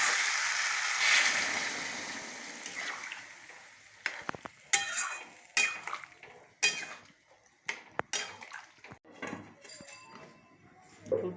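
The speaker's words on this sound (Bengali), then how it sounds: "এবার আমি এর মধ্যে গরম জল দিয়ে দেবো" Hot water goes into a simmering rohu fish curry with yam in a pan, giving a steady sizzling hiss for about four seconds, followed by irregular scraping and clinking of a utensil stirring against the pan, close up.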